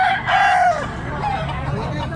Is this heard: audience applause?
no